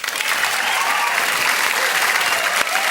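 Steady studio audience applause for a comedy detective show, dense and sustained throughout, with a brief sharp tap near the end.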